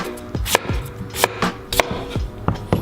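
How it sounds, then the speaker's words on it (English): Knife chopping through potatoes on a surface while cutting them into chips, several distinct sharp knocks at a slow, uneven rhythm, close and clear with no talking. "we're just gonna use our knife."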